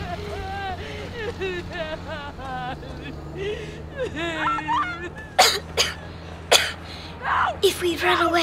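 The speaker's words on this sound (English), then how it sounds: "They'll hear you coughing." A character in Call of Duty Modern Warfare coughs and clears their throat in several rough bursts near the end, amid game ambience with speech-like vocal sounds earlier.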